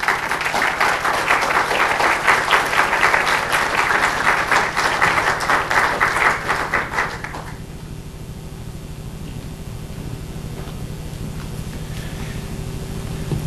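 An audience at a conference keynote applauds to welcome speaker Kevin Gover, a dense, steady clapping for about seven seconds that then stops, leaving quiet room hum.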